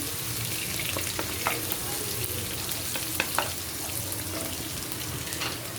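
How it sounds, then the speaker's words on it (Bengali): About half a cup of onions fries in a pan for a bhuna-style dish, giving a steady close-up sizzle with a few sharp stirring clicks and scrapes over about six seconds. "পেঁয়াজটাকে একটু ভেজে নেব।"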